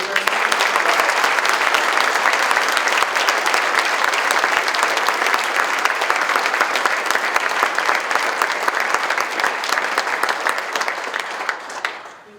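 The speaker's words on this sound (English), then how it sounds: "Let's give them a round of applause." Sustained audience applause at an academic signing day ceremony for students who declared intent, dense loud clapping throughout that tapers off and fades at the end.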